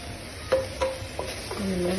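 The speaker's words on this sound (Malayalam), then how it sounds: "മുളക് പൊടി മഞ്ഞൾപ്പൊടി മല്ലിപ്പൊടി ഇതിൻ്റെ ഒരു പച്ച ടേസ്റ്റ് മാറുന്ന വരെ നമുക്കൊന്ന് ഇളക്കിയെടുക്കുക" Spoon stirring chicken with chili, turmeric and coriander powder in a hot pan for chicken curry, with a few short scraping strokes over a soft sizzle, quiet and close.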